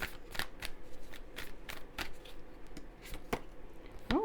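A tarot card deck is shuffled close up, its sharp riffling bursts repeating in an uneven rhythm for a few seconds with no voices.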